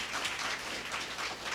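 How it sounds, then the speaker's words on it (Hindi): A church congregation claps briefly, a soft, distant wash of applause lasting little more than a second. "ताली बजा सकते हो।"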